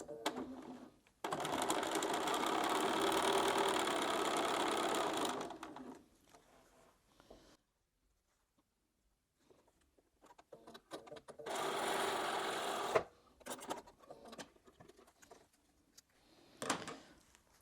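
A sewing machine stitches a quarter inch seam in a quilt block in two bursts of steady whirring, with quiet handling noises, clicks and pauses between the runs.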